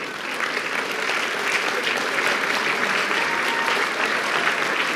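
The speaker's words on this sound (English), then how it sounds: "Let's have a round of applause for all of our school board members who are here tonight." Steady, dense applause from an indoor audience at a Sterling Scholar awards night, honoring school board members, sustained at an even level throughout with no voices over it.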